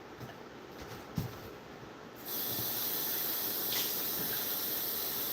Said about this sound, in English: Okay, now we're going to add water.